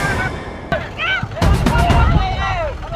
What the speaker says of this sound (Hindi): तो आप देखिए फायरिंग की आवाज़ आप सुन सकते हैं।